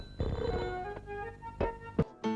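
A telephone ringing in a film scene, heard as a few spaced electronic ring bursts at moderate level with a brief dropout near the end.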